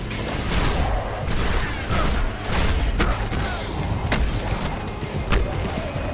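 Heavy gunfire in the first-person shooter game Destiny, rapid sustained bursts of shots and booming impacts rolling on nearly without pause, loud and close.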